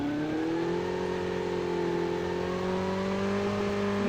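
A motorbike engine in a battle royale video game drones steadily and close, its pitch lifting slightly as it revs, continuous throughout with no voices.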